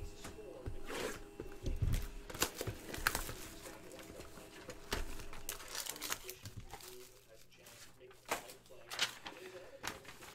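Foil packs of 2018 Panini Obsidian football cards being torn open, giving repeated crinkling and ripping bursts at close range, with a voice talking over parts of it.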